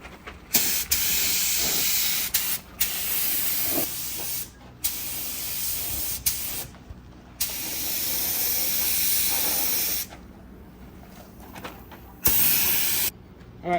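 A spray gun mists paint onto a Ford F-150 rear bumper in short repeated bursts, each a bright steady hiss lasting one to three seconds, separated by brief silent pauses, close and fairly loud.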